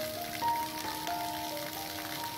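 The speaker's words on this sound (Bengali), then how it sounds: "ভালো জোরেই বৃষ্টি হচ্ছে" Heavy rain pours down in a sudden shower, a steady dense hiss of drops on surfaces that holds at an even level throughout.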